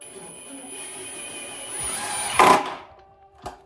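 A power driver drives a wood screw into a wooden bee hive quilt box, a rising whir building over a few seconds to a sharp peak, then a brief final burst.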